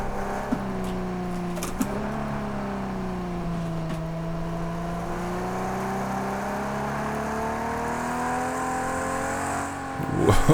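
Ferrari race car engine in the video game Project CARS 2, a steady sustained drone that rises and falls in pitch as the revs change, loud and continuous throughout.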